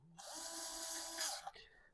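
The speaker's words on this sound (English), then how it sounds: "when I was using the Dremel" A Dremel rotary tool grinds into a guitar body cavity, a loud high whine held steady for over a second with slight pitch shifts, then cutting off and trailing away.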